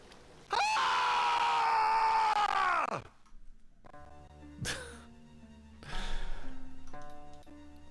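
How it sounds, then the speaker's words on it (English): A long, loud scream rings out for about two and a half seconds before dropping away, followed by softer effects and music in the Fisher-Price Learning in Toyland computer game. "It's a pretty good scream."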